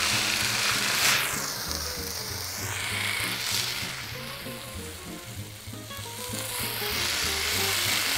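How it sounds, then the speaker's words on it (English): Food sizzles and fries in a pan during a cooking game, a steady hiss, fairly loud and continuous, with music playing underneath throughout. "Now that's the sound"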